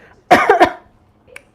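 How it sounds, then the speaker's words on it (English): A short, harsh cough close to the mic: a quick burst of two or three hacks, followed by a faint click. "Sorry for the cough."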